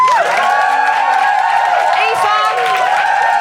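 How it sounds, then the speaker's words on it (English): Live podcast audience cheering and applauding for a guest named Adele at a Guilty Feminist recording, a dense steady wash of clapping with whoops and shouts throughout, loud and close. "Big round of applause for Adele."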